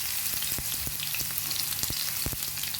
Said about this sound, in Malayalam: നമ്മൾ ആദ്യം പാൻ ചൂടാക്കി കഴിയുമ്പോൾ കുറച്ച് എണ്ണ ഒഴിച്ചു കൊടുക്കുക. അതിലേക്ക് നമ്മൾ കട്ട് ചെയ്ത് വെച്ചിരിക്കുന്ന പച്ചമുളക്, വെളുത്തുള്ളി